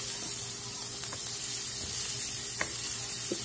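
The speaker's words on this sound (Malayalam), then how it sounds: "വീണ്ടും നമുക്ക് നല്ലവണ്ണം ഇളക്കി കൊടുക്കാം." Food is stirred and sautéed in a frying pan, with a soft continuous sizzle and occasional light scrapes of the spoon against the pan.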